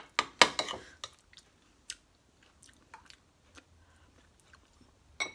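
A spoonful of quark dessert being eaten, with a few soft close-up chewing and mouth clicks, sparse and quiet after a couple of sharper opening sounds.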